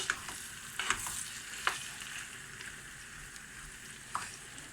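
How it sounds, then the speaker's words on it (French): Garlic and tomatoes frying in oil in a pan while a spoon stirs them: a soft, steady sizzle broken by a few brief scraping strokes, close and fairly quiet. "Je remets l'ail. Voilà. Et mes tomates. Je remue."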